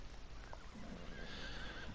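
A horse in Farming Simulator 19 gives a faint whinny over a low ambient game background, with hoof clip-clop mixed in, no talking.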